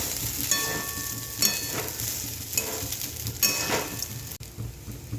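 Sabudana khichadi mixture stirred in a hot pan, a steady sizzle and frying crackle with repeated scraping strokes of the spoon, close and fairly loud throughout.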